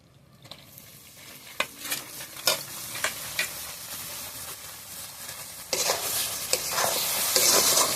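Grated coconut stirred in a kadai: a spoon scrapes and knocks against the pan in separate strokes over a soft sizzle, growing louder and busier toward the end, with no talk.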